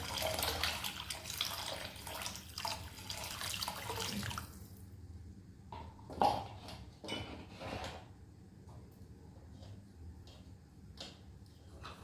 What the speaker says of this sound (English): To adjust the consistency, add some water.